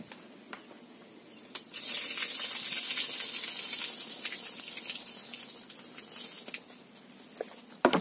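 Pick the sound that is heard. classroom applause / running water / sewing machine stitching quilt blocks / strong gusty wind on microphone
running water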